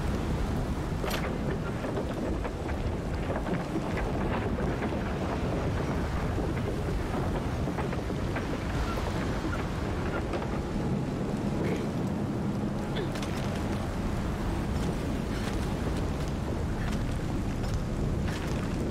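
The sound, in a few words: wind blowing in the video game Shadow of the Tomb Raider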